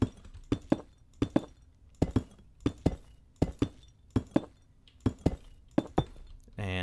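Glass blocks are placed one after another in Minecraft, a steady series of short, crisp clicks roughly twice per second over a quiet background.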